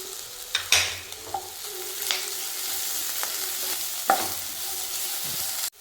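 Chicken masala sautéing in a pan, with soft frying and sizzle under several scraping stirs of a spoon against the pan, close and fairly quiet, no talk.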